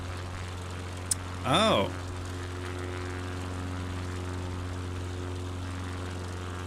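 Steady propeller engine drone of a Cessna 152 Aerobat in Microsoft Flight Simulator 2024, a constant low hum running throughout, with a brief spoken exclamation near the start.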